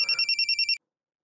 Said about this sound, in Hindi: देखो इस वक्त पे किसका फोन।